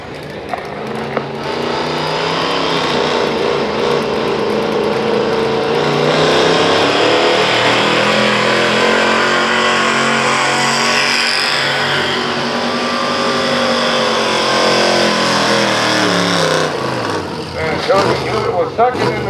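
Pulling truck engine roaring steadily at a truck pull at the Grease, Steam and Rust Show in McConnellsburg, PA, loud and sustained with a rising, straining pitch, while an announcer talks over it.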